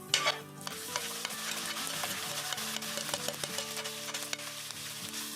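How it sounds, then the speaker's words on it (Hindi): Spices sizzle and crackle in hot oil for kadhi tadka with a busy, continuous fry, while a spoon scrapes and stirs the pan up close. "तो यहाँ पे बस 1-आधा मिनट के लिए इसे फ्राई करेंगे।"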